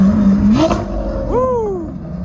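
Lamborghini Aventador 50th anniversary edition at a hypercar event, its engine snapping through a couple of sharp, rising revs close by, then settling back with a falling whine.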